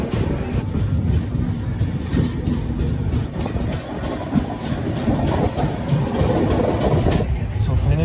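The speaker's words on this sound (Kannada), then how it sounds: "ಈಗ ನಮ್ಮ ಟ್ರೈನು ಅರೌಂಡ್ ಕರ್ನೂಲ್ ಬಿಟ್ಟು ಮುಂದ್ಗಡೆ ಹೋಗ್ತಾ ಇದೆ" Mysore–Jaipur superfast train running past Kurnool, a steady rumble and clatter of wheels on track heard from inside the carriage, with voices talking over the noise.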